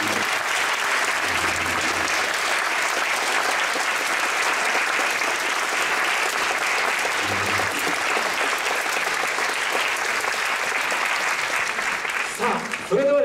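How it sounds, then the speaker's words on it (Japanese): A hall full of Urawa Reds supporters at a club fan event claps steadily for about thirteen seconds, a dense even roar of hands that thins briefly near the end, with faint voices underneath. "皆様どうぞ拍手でお送りいただきたいと思います"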